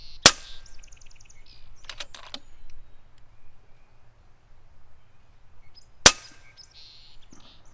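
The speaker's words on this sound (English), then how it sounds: "I'm gonna shoot at the dirt pile and then come back to the clay." Two sharp, loud cracks from a .30 caliber FX Hybrid slug air rifle fired into a dirt pile outdoors, about six seconds apart, each followed by a brief rattling tail over quiet background.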